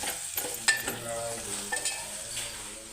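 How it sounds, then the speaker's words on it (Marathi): Chutney roasting in hot oil in a home kitchen pan, a soft steady sizzle broken by a few sharp scrapes and clinks of a spoon stirring against the metal, close and moderately loud with no voices. "मी चटणी चांगली भाजून घेऊया तेलामध्ये"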